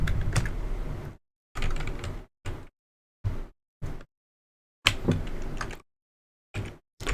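Fingers typing an nmap command on a computer keyboard, producing short close bursts of rapid key clicks separated by silent gaps, with no talking.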